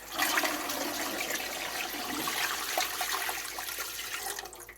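Tap water rushes steadily into a pressure canner for processing red chili, a loud continuous splashing flow that fades out at the end.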